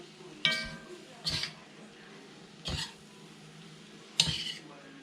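Beef and aromatics get stirred in a pot for Hungarian goulash, with four distinct scraping clanks of a utensil against the pot at irregular intervals over a low simmering background.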